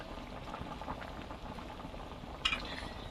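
Chital fish curry broth simmering in a covered pot, a soft steady bubbling burble with one brief clink partway through, no talk.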